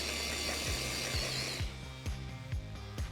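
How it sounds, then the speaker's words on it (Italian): A blender coarsely chopping cubes of stale bread, a loud whirring grind that runs for over a second and then breaks into rhythmic rattling pulses and knocks, close and without talk. "Qui abbiamo del pane raffermo tagliato a cubotti che andremo poi a frullare in"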